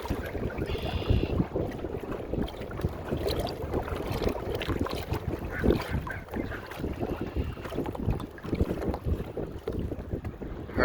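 Strong wind gusts buffet the microphone on open water of Lake Ontario during a fast Hobie kayak ride, a constant rough roar with surging bursts and no talk.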